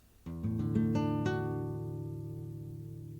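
Guitar strings are plucked one after another in quick succession, then ring out together and slowly fade, fairly soft and close.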